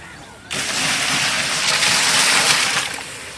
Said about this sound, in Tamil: இதோட 3வது வாளி தண்ணி.